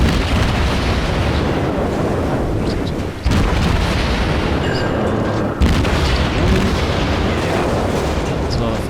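Naval gunfire and explosions in World of Warships form a dense, loud, continuous roar of booming shots and blasts with no break, a heavy rumbling barrage filling the whole stretch.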